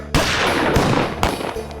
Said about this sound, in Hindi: शादी के बाद चली जश्न दी गोलियां